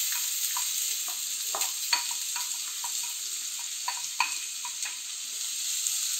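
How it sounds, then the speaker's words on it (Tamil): Sliced onions sautéing in a pan with bay leaves for a creamy egg curry, a steady close sizzle with the scrape of stirring at irregular intervals and no talk. "நல்ல கோல்டன் கலர் வர வரைக்கும் நல்லா வதக்குங்க."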